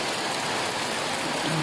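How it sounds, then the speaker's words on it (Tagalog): Heavy monsoon rain pours down in a flooded yard, a dense and continuous roar of water striking surfaces, loud and unbroken throughout. "Grabing ulan."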